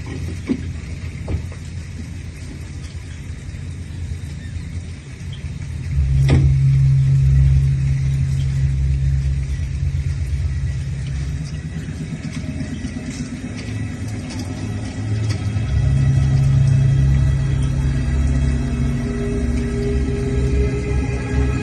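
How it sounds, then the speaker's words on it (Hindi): A car drives along a rough, roadless forest track, its engine rumbling steadily throughout and swelling louder in two stretches as it revs, with no talk over it. "देख कर गाड़ी चलाओ पापा"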